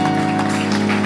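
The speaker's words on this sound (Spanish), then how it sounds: "Dale un aplauso al Señor" Church congregation clapping in brief, steady applause, held under a sustained musical tone.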